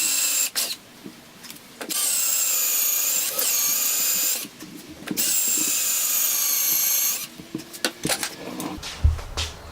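Power drill boring into a horn nock for a warbow, a high whining motor in several separate bursts with short pauses and small clicks between them, close and fairly loud.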